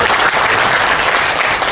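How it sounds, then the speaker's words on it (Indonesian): A dense burst of audience applause fills a training kickoff event hall. The clapping is loud, close and continuous, with no pauses across the short stretch. "Tepuk tangan dulu dong"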